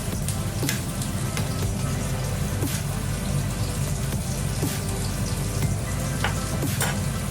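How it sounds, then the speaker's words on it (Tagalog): Food frying in a pan sizzles loudly and continuously up close, with occasional clinks and scrapes of stirring. "Give a stir again."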